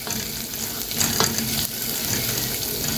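Egyptian koshari ingredients frying and being stirred in a pan, a steady close sizzle with scraping stir strokes around the middle, no talking.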